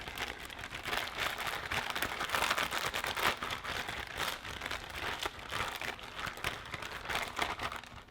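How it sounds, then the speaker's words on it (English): A plastic Ziploc bag holding slime ingredients is squished and kneaded by hand, giving continuous close crinkling and rustling at moderate volume with no speech. "now it's time to zip up your Ziploc bag and just combine your ingredients together"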